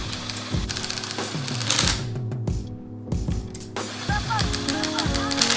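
Bolts being tightened on the crankcase of a Yamaha YZ250 two-stroke motor during a rebuild, heard as quick rattling ratchet clicks in bursts with metallic clinks, close and fairly loud.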